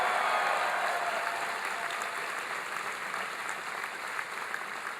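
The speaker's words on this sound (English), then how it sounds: "Give him a big round of applause." Town hall crowd in Green Bay applauding Governor Jim Doyle, a dense, sustained wash of clapping that stays loud throughout and eases only slightly toward the end.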